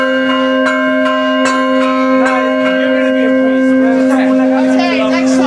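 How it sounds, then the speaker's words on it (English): Church bells rung by hand with ropes, struck in a steady run of loud, close clangs whose long ringing tones overlap and sustain, with faint voices in the background. "The altar boys to ring the bells."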